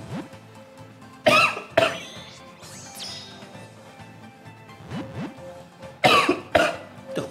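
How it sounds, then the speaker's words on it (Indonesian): Coughing during a One Piece Treasure Cruise mobile game session: two pairs of sharp, loud coughs, one around the middle and another near the end, each a quick double burst over a quiet room with no talking. "kenapa gua batuk ini?"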